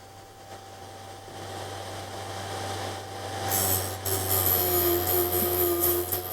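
A Vevor drill bit sharpener hums as a steady motor whine, then grows louder and harsher partway through as a bit is ground to a point, close and continuous.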